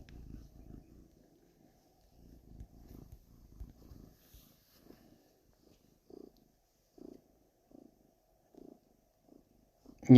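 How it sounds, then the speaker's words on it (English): A house cat purring close by in a quiet room, soft low rumbling pulses that come and go in short bursts, fading to brief evenly spaced throbs toward the end. "Hello, cat."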